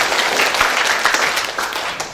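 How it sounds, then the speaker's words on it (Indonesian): A graduation ceremony audience applauds, with a dense, steady wash of many hands clapping in a large hall, fairly loud throughout the short burst. "Tepuk tangan untuk semua kami ya."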